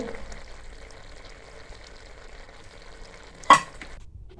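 A cooked mixed vegetable curry being served from the pot, with a faint low simmering hiss throughout and one sharp metallic scrape or clink of a serving spoon near the end.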